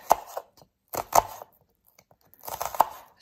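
A knife chops an onion on a board while a jerk chicken sandwich is prepared, giving three close bursts of quick, crunchy chops separated by short silences.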